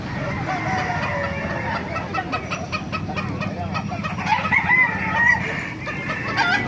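Many chickens cluck and roosters crow over a busy, crowded poultry market in Baliuag, wet with rain, several crows overlapping toward the end, fairly close and loud.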